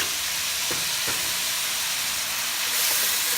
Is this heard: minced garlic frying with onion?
yes